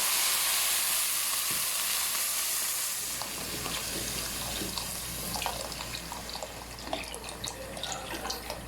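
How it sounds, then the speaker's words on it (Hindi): Two litres of milk pour into a pan of roasted vermicelli, a steady splashing gush that softens into bubbling and crackling sizzle as the liquid hits the hot pan, close and moderately loud, with no talking. "अब हम इसमें शामिल करेंगे 2 लीटर दूध"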